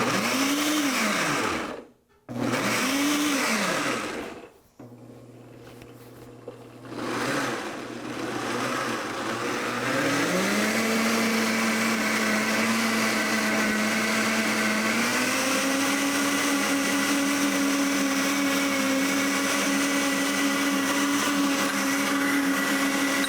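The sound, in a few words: blender running on puree setting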